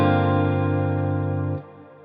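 A Strymon Nightsky reverb pedal on electric guitar holds a sustained chord with a smooth, seamless trail that drops off sharply near the end and leaves a faint decaying tail.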